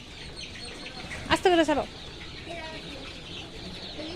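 A chicken gives a short burst of clucking calls partway through, close and fairly clear against low background noise, with someone speaking briefly.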